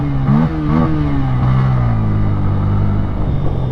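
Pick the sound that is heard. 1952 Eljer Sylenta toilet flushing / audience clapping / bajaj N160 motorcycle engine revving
bajaj N160 motorcycle engine revving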